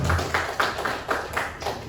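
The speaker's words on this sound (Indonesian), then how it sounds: "Beri tepuk tangan." A short burst of audience applause at a talk on traditional balogo sport, with a handful of separate claps landing in an uneven rhythm, fairly close and brief.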